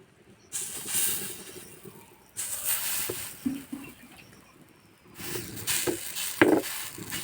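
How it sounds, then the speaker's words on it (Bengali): Ripe jackfruit pitha cakes fry four to a batch in hot oil, giving a close hissing sizzle that swells in three separate bursts with quieter pauses between them. "এক ব্যাচে চারটে করে পিঠে ভাজা হবে"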